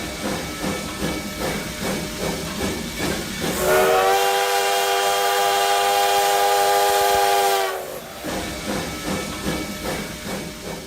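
Steam train departing Santo Amaro at dawn chuffs and hisses rhythmically, then a loud sustained steam whistle sounds for about four seconds before the chugging resumes, with no talking.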